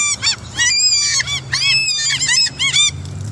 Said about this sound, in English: Gonna see if I can get a seagull to take a cracker from me.